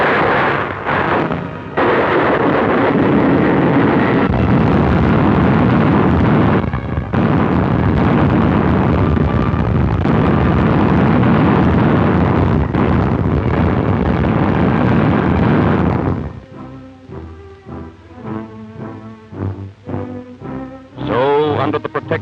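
Deep, rumbling depth-charge explosions boom one after another at sea, loud and sustained, then give way to softer, uneven crackling and thuds near the end.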